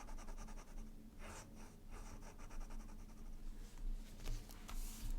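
A pocket fountain pen nib glides over paper in soft, faint scratchy strokes in an irregular rhythm, close and quiet with light breathing in the background.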